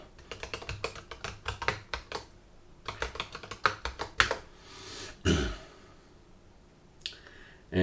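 Password being typed on a computer keyboard during a Windows 10 install: bursts of close, crisp key clicks in uneven runs with short pauses, a few heavier keystrokes, with no talking.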